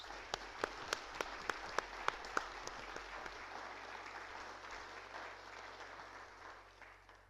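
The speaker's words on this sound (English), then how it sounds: "let's give them a round of applause for our incredible team members." An audience at a board of directors' quarterly meeting applauds team members, starting with several sharp individual claps that swell into sustained steady clapping from a room of people, fading slightly at the end.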